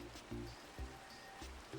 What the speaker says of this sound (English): Typical, it's now raining.